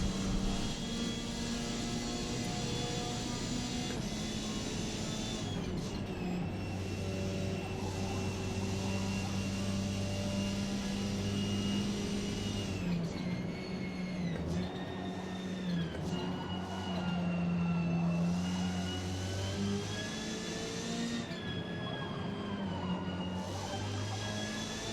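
Hyundai Velos touring car racing in Forza Motorsport, its engine a loud, steady, buzzing drone with rising and falling pitch through gear changes, joined by other race cars nearby, with no talk.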